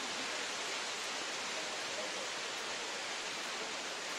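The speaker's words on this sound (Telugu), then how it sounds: "అదే వాటర్ ఫాల్స్" Abbi Falls in Coorg, Karnataka, flowing at reduced water level, gives a steady, unbroken roar of falling water that stays constant and fairly close throughout.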